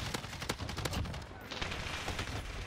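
LMG fire in the video game Modern Warfare comes as rapid, loud bursts of repeated shots over dense in-game noise, with a brief lull midway before the firing resumes.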